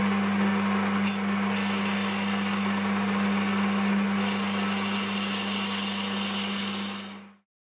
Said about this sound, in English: So I'm going to part it off on the bandsaw, flip it round and face off the other side.